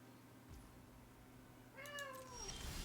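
A cat meows twice, clear descending cries over a steady low background hum, fairly faint and alone without talk.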